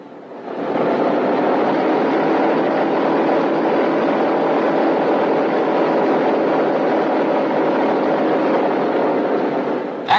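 Engines of a B-17 bomber run at a steady, loud, broadband drone that holds evenly for about ten seconds without a break.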